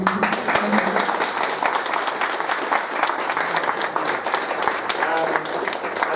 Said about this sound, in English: I would like to ask for a big applause to Nadia Hor.